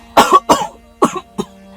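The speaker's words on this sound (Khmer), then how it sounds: "បងក្អកខ្លាំងអញ្ចឹង" A person gives a burst of harsh coughs: two quick coughs, a pause, then two or three more, close and loud with no talk.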